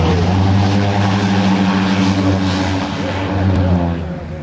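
Propeller aircraft droning loud and close at an aviation show as it makes a very short landing, a steady engine hum with strong low tones holding throughout and no talking.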